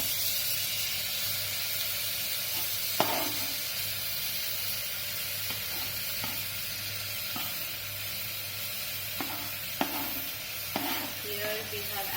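Chopped tomatoes go into a pan of sautéing onions for matar paneer, bringing a steady, close sizzle and hiss of frying with a few soft stirring knocks and scrapes along the way.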